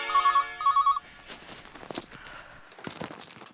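A telephone bell rings in two quick bursts of trilled tones, close and clear, then stops, leaving faint rustling and soft movement sounds in a room.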